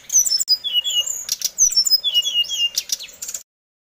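A brown-chested jungle flycatcher sings a quick run of high, bright chirps and whistled phrases, close and clear, with short pauses between bursts and no other sounds.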